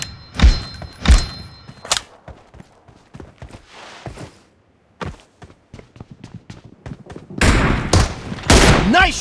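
PUBG gunfire: sharp, loud shots in quick bursts at the start, sparse isolated cracks through the middle, then a dense heavy volley near the end, with no talking.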